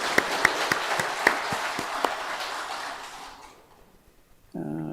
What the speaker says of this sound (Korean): 격려하면서 큰 박수로 응원하겠습니다